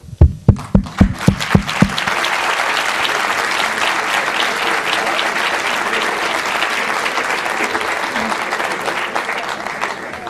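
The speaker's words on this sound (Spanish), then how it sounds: "Por mi parte, tiene ese pequeño aplauso." An audience at a public conference lecture applauds. A few sharp separate claps build quickly into steady, full applause that carries on evenly to the end.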